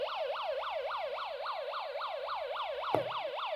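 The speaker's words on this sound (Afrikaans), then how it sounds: "En hoor sy sirene." A fire engine siren whoops continuously in fast, regular up-and-down sweeps, steady and fairly loud, with no talking.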